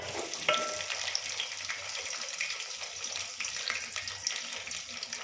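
Onions and green chillies fry in hot oil with a steady, dense crackling sizzle throughout, close and even, with no voices.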